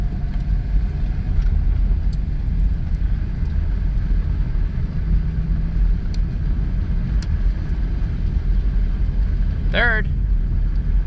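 A 2000 Chrysler Grand Voyager SE, long off the road, rumbles along steadily in second gear, its engine and road noise loud and continuous throughout, with a brief rising whine or squeal near the end.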